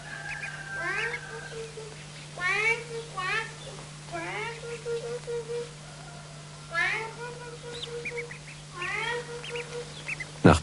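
A boy imitates a quacking call and greylag goslings answer with repeated high, soft peeping chirps in short rhythmic bursts. A steady low hum runs underneath.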